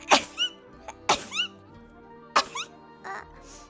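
A young woman sneezes repeatedly, with several sharp bursts in quick succession, each followed by a short voiced tail, close and fairly quiet with pauses between.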